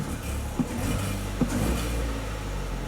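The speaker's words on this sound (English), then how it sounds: "So as you can hear, the engine is running" A Ford Fiesta engine idles with a steady low hum and a couple of faint clicks, heard close and alone.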